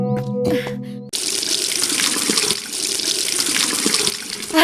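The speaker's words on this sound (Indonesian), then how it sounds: "Pakai keran air yang di taman saja" Water gushes from a park tap in a cartoon, a loud steady running stream that starts abruptly after a brief burst of tones and continues close and unbroken.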